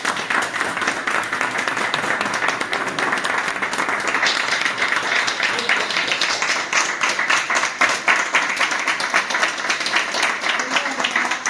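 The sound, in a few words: applause for Majo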